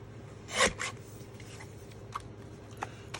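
A piece of paper is cut at close range, a sharp rasping slice early on followed by fainter scrapes and a few small taps against a quiet background hum.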